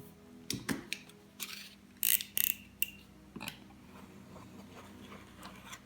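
Paper is cut by hand while making a stamp storage organiser: a few sharp snips and crisp rustles spaced across a quiet room, close by, with no talk.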